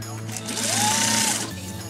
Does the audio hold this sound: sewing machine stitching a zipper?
yes